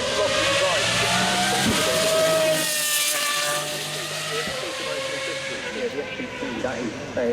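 Ferrari FXX supercar on the Goodwood Festival of Speed uphill run, its engine screaming loudly at high revs with hiss and shifting pitch, under a commentator talking over it.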